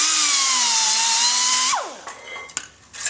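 A small Dremel-style whizzer wheel screams steadily through a steel muffler strap, a loud close high whine that stops suddenly after under two seconds, winding down with a falling pitch, followed by a few light clanks.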